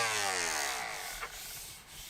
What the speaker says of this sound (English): I switched to a palm sander and used 80 grit, 120, 220, and 320 to finish this board out